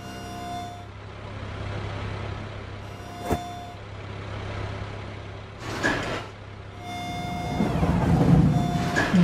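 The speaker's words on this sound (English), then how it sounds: "Time to empty the container." A cartoon garbage truck empties a container: a steady engine idle, a sharp clank, a hissing air release and rising mechanical whirring as the bin is lifted and tipped, all without speech.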